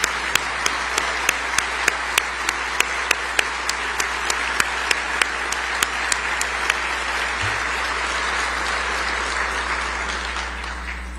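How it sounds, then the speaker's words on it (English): Sustained applause from a large crowd, steady clapping with sharp individual claps standing out, continuing for several seconds without speech. "let us give you a round of applause and thank you for all that you've done"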